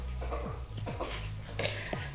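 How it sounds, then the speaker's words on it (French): Sisi, a pet dog, gnawing on her toy nearby, giving a series of irregular clicks, scrapes and small squeaky knocks over a low background hum, with no one speaking. "C'est ma chienne Sisi qui est en train de grignoter son jouet."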